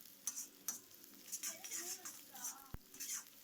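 Onion frying in a pan for street-style chicken fried rice, a steady sizzle with scattered stirring scrapes and a sharp utensil clack near the end, fairly quiet with no talk.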